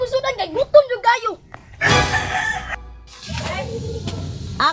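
A rooster crowing in a Filipino backyard setting with fighting-cock care, the crow rising between stretches of nearby talk, with a second loud burst of crowing or flapping noise later.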